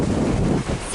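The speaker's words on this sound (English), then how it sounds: "it is really gusting up around the 20s now" Strong gusts of 20-plus knots buffet a sailboat at sea under a partly unfurled headsail, giving a loud, rough rush of wind across the microphone mixed with wave wash, with a voice speaking under it.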